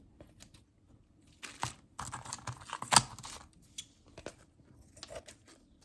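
Scissors trim the edges of a vintage heart-shaped decoupage keychain piece, giving faint, sparse snips and crinkly handling sounds with quiet pauses between them.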